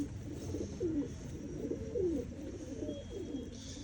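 A champion pigeon coos softly in several repeated low rolling phrases, close by against a quiet background with no talking.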